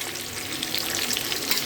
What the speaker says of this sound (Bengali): পেঁয়াজটা আমি এখন ভালো করে ভেজে নিব